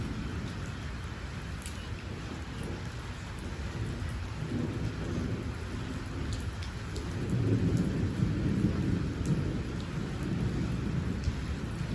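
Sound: rain

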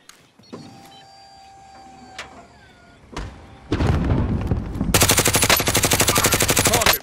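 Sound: sentry guns firing in video game Call of Duty: Modern Warfare

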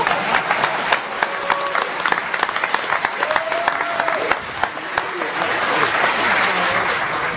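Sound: audience applause for Dan Kaminsky

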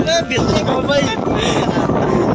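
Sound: strong wind blowing during an unseasonal storm

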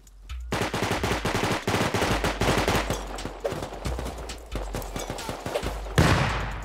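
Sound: AK rifle gunfire in the video game Rust

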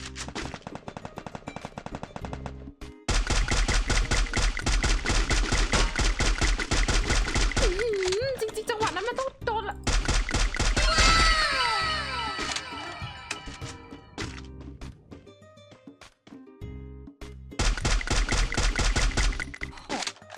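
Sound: M4A1 gunfire in the video game Free Fire

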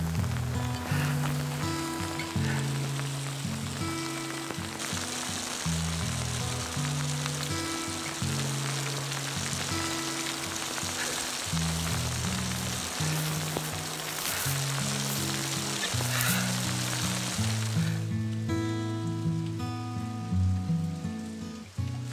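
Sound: rain falling

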